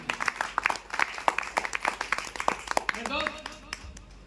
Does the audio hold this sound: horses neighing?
no